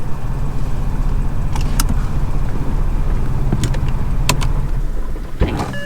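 A modified BMW 335i sits idling roughly with its idle hunting, giving a steady, close low rumble with a few small clicks and rattles and no speech.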